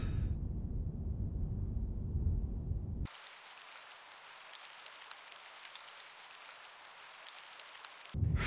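Steady rain in Her Majesty's SPIFFING on PS4, a dense even hiss of falling drops that starts abruptly after a low rumbling passage and runs alone for several seconds before cutting back.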